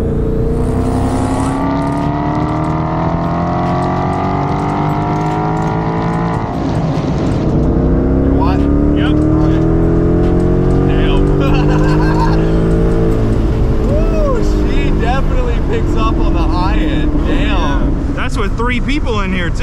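A supercharged Ford Mustang pulls hard in third gear up to 6,500 RPM, its engine note rising loudly and continuously from inside the car, then easing and climbing again, with voices briefly over it.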